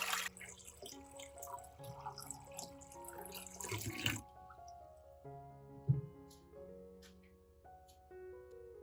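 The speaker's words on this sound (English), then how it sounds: "First, pour clean water into the basin." Water splashes and pours steadily into a basin for a few seconds, then stops, leaving faint drips with soft music underneath.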